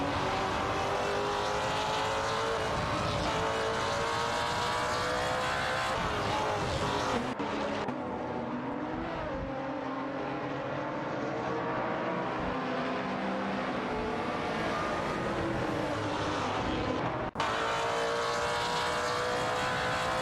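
Racing-game engines from an Aston Martin Vantage GT4 and a Lotus Evora GX GT4 running neck and neck, a steady loud drone with shifting pitch and a brief drop in tone midway, no talk.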